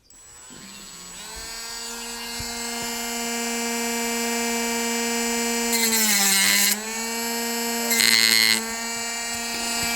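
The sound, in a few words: sanding a handmade garfish swimbait lure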